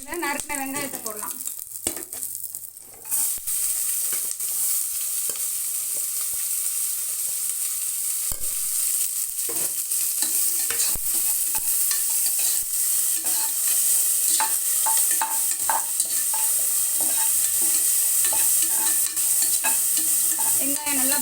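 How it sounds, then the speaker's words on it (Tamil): Chopped onions frying and sizzling in a pan of oil with bay leaf, cinnamon, cloves, star anise, green chili, cashews and cardamom for chicken biryani, a steady close hiss with occasional stirring clatter and no talk. "இதில் நறுக்கின வெங்காயத்தை போடலாம்."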